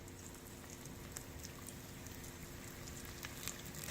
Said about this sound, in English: So we have pan frying them.